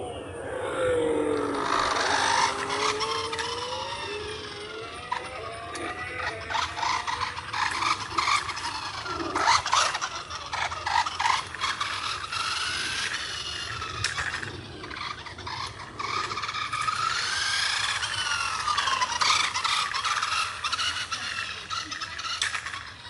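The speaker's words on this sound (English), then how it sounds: "let's do the enhanced engine sound" A simulated engine sound from a McLaren Formula One RC car, with rising and falling whines that rev up and down repeatedly in close, continuous bursts.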